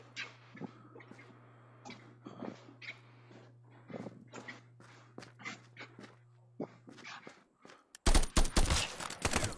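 Gunfire in the VR shooter game Contractors comes as sharp separate shots with short gaps over a low hum, then a louder dense burst of rapid fire near the end.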